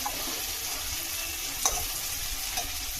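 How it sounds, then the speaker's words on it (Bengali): Spice paste with ginger and garlic being sautéed in a pan for ghugni, a steady close frying sizzle with a faint stir or scrape partway through, no talk. "মশলাটা ভালো করে কষিয়ে নেব"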